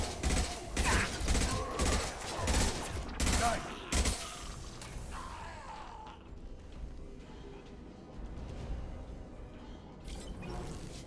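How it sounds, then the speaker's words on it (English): Rapid video game gunfire crackles in dense, loud bursts for the first few seconds before fading into quieter ambient game noise. "Firing now."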